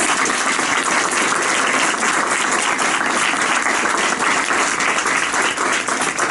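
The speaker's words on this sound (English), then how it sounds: "can we just give all of our interns another round of applause?" A reception audience gives the interns another round of applause, a loud, dense and steady wash of clapping from many hands that holds through the whole stretch without a break.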